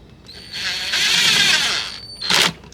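A power tool whirs steadily for about a second and a half while tightening fittings during a thermostat job, then gives a short second burst, close and loud with no talking.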